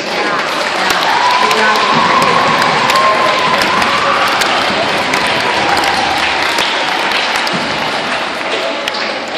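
Middle school students in a classroom cheer and clap together, a loud, sustained mix of claps, shouts and young voices crowding the room, with occasional thumps and a raised voice rising above the din.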